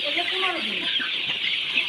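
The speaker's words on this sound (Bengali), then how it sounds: "দর্শক দেখছেন যে অরিজিনাল টাইগার মুরগির বাচ্চা 15 দিন বয়স।" Tiger-breed chicks about fifteen days old keep up a dense, continuous chorus of high cheeping and peeping close by, filling the whole stretch with no pauses.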